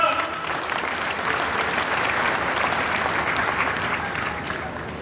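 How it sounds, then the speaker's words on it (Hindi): A large crowd at a political nomination rally in Haryana claps steadily, a broad, continuous wash of applause that holds at an even level throughout. "जोरदार तालियों से स्वागत करें"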